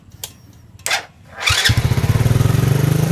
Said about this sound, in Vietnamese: bây giờ là mình xin phép là mình lại nổ máy lên